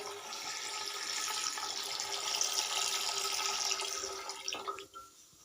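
A liter of milk poured from a carton into a pot on a stove, a steady close liquid stream running for several seconds before tapering off into a few final splashes.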